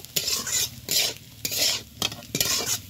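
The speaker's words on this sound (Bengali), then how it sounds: "জিরে গুঁড়ো দিয়ে খুব ভালোভাবে মিশিয়ে নিব" A spatula stirs cumin powder into grated raw potato frying in a pan. About five rhythmic, close scraping strokes sound over a soft sizzle, with no voices.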